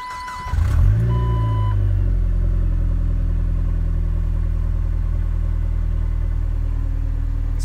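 A turbocharged 2.4L engine in a Jeep Wrangler TJ cranks briefly, catches and settles into a loud, steady idle, heard up close with no talking.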